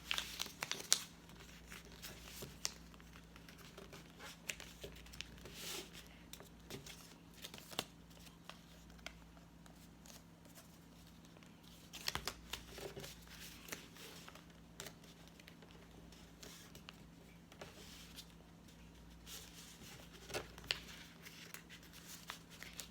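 Paper folded and creased into an origami ninja star, with soft crinkling and scattered sharp creasing taps against a low steady hum, close and fairly quiet throughout.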